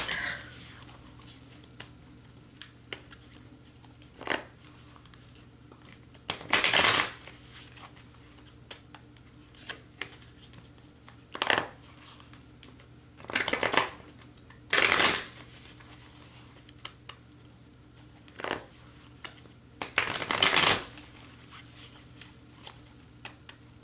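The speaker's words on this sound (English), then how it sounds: "I gotta have Hulk strength to shuffle." A stiff-stocked deck of cards shuffled by hand in several separate bursts of quick riffling and flicking, close and crisp, with quiet handling noise between the shuffles.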